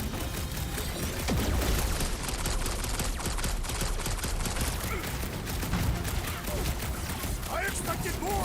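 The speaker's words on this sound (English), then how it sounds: "I'm trying to shoot here." Rapid gunfire in the Marvel's Guardians of the Galaxy video game, a dense, continuous burst of shots blended with loud game music and effects over the whole stretch.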